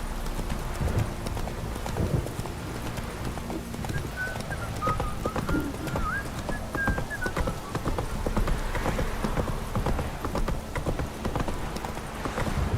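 Roach, a horse in the video game The Witcher 3, gallops with steady, close clip-clop hoofbeats that run throughout with no break, backed by a faint patter of rain and a brief whinny.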